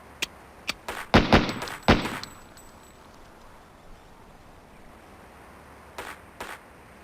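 Gunshots at steel pepper-popper targets in the Police Quest: SWAT video game: a quick cluster of sharp cracks comes early, then a quiet pause and two more isolated shots, with no talk.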